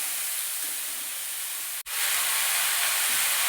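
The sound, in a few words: hog plums (amra) stirred in hot oil with spices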